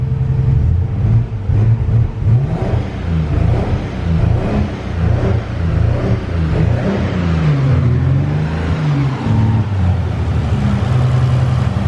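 A Nissan 300ZX Z32 that had sat for two years runs steadily nearby, a loud continuous rumble with slight rises in revs throughout, no voices.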